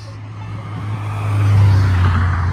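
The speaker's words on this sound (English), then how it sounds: "It's kind of annoying with all the cars driving by." Cars pass along a road at night, a steady low engine and tyre hum that swells to a loud close pass around the middle and then slowly fades, with no talking.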